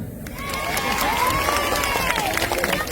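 An outdoor crowd at a local stage event claps and cheers in a dense, steady wash of noise, with a few shouts and a voice rising above it.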